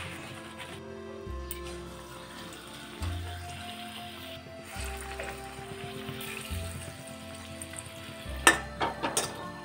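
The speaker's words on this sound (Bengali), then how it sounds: "এইভাবে বাকি বেগুনিগুলো আমি ভেজে নেব।" Battered eggplant slices (beguni) fry in hot oil in a home kitchen, giving a soft continuous sizzle with bursts of bubbling, plus a few sharp clinks of a utensil near the end.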